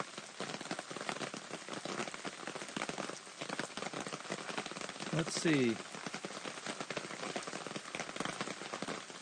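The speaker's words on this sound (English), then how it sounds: "Can you guys hear the rain?" Rain patters steadily on an Easy Up canopy tent at an outdoor cast iron cooking camp, a dense soft drumming throughout, with a brief bump midway and someone speaking quietly once.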